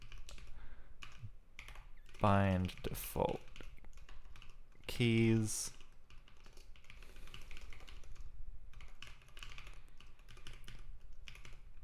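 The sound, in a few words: typing on a computer keyboard while coding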